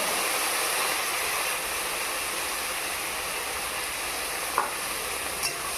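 Boiled peas are stirred in a frying pan with spices, giving a steady soft sizzle with faint scraping of the spoon and a couple of light knocks near the end.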